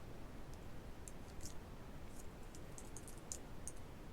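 Computer keyboard keys and mouse buttons clicking while working in Photoshop, a sparse run of quiet, light taps over a steady hiss, faint and nearby with no voices.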